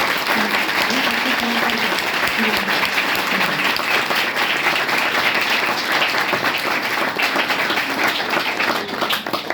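Dense, steady applause from a classroom full of students, loud and continuous throughout, with a voice briefly audible underneath.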